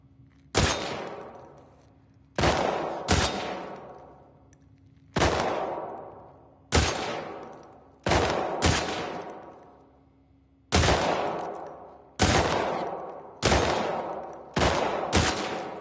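Gunfire from a video game shooting competition: roughly a dozen loud, sharp shots fired singly and in close pairs, each with a decaying echo tail, heard alone over a faint steady hum.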